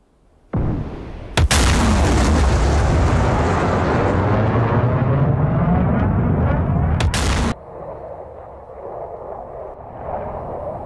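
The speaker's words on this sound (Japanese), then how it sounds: "ここで F-35 が次々にアムラームを発射。" An F-35 fires AMRAAM missiles one after another in DCS World, each launch bursting into a loud roaring whoosh that rumbles for several seconds, with sharp cracks marking the releases before the sound drops to a fainter hum.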